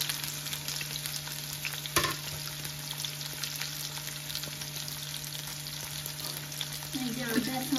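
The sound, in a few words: bitter gourd added to frying pan and sizzling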